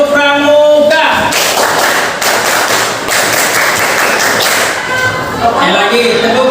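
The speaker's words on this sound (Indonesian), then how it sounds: "Silakan tepuk pramuka" A classroom of pupils performs the rhythmic Indonesian scout clap, a burst of loud, sharp, patterned hand claps lasting several seconds, with a voice before and after.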